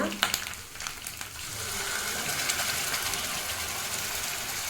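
Onion, ginger and garlic sizzle steadily in a pan, a soft continuous crackle after a few sharp clinks of a utensil at the start, quiet and close with no talking over it.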